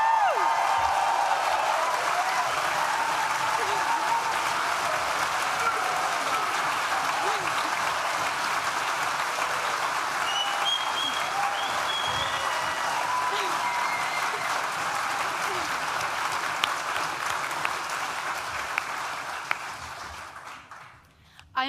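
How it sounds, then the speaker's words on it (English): Sustained, dense applause from a large audience for graduates at a university business school graduation ceremony, loud and continuous for about twenty seconds before tapering off abruptly. "Can I get a massive round of applause for all the graduates here today?"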